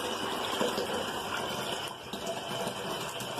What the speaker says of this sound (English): we're going to pour that cold water in